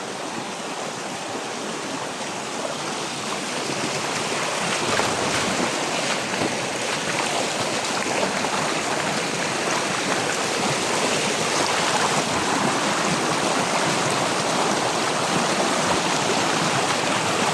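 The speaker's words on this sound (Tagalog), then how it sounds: "Dito na kami sa may sapa." Stream water flowing outdoors: a loud, steady broadband rush that continues without a break, heard alone with no talk.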